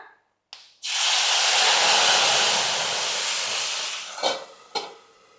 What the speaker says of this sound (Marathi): आता आपल्याला फोडणी द्यायची आहे बघा